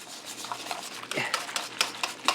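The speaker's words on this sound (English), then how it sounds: "And stir it until it dissolves." A homemade laundry soap mixture being stirred in a container, with a spoon scraping and tapping in short irregular strokes, close and fairly loud, and no talking.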